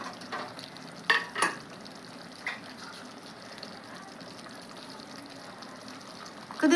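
Tomato egg curry with drumstick pieces, curry leaves and green chilli pieces is stirred in a pot over a low, even simmer, with a few distinct spoon clacks and scrapes standing out early and again at the end.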